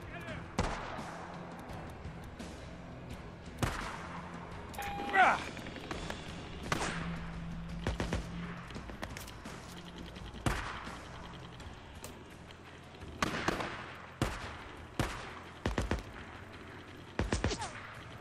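Repeated gunshots from a firefight in the video game Days Gone, sharp bursts scattered across the stretch, some close and loud, others farther off, over game ambience with someone speaking at points.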